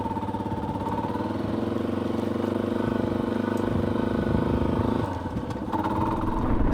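Motorcycle engine running steadily at close range while riding out toward a trail, a continuous droning rumble with a slight dip in revs near the end, no talking.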